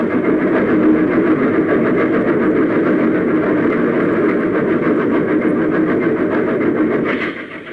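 A loud, steady rumble of a train engine roaring continuously through a smoke-filled tunnel, enclosed and reverberant, easing slightly at the very end.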